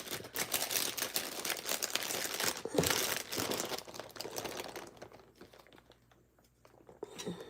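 Sticky tape being pulled from a box for a DIY craft, close crinkling and rustling with sharp little clicks and tearing, busy at first, then a quieter pause before a few more handling noises.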